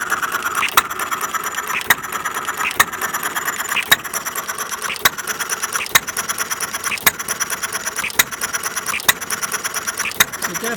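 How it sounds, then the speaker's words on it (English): A half-scale Domestic side shaft hit and miss model engine runs steadily nearby, with sharp periodic firing bangs about once a second over a continuous mechanical whir and rattle. "You don't want to run an engine like this too fast."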